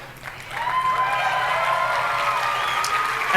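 Steady applause from a large audience at the Xbox One reveal event rises quickly and holds as a continuous wash of clapping.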